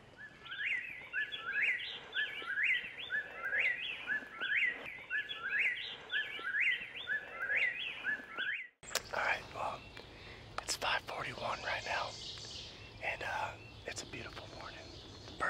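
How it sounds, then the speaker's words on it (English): Birds sing a repeated, rising chirping phrase over and over at dawn in Pennsylvania, then a burst of harsher crow calls and rustling follows, with soft voices underneath. "birds are chirping, the crows are just starting to get fired up"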